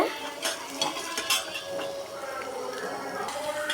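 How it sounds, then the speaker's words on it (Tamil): Food sautéing in a pan is stirred with a metal spoon, giving scraping clinks and soft sizzle in uneven strokes close by, with faint voice in the background. "நம்ம வதக்க ஆரம்பிச்சிடலாம். இப்படியே நல்லா வதங்கட்டும்."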